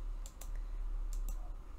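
Quiet computer mouse clicks while working in Inkscape: two quick pairs of sharp, close clicks, one near the start and one about a second later, over a faint steady background hum.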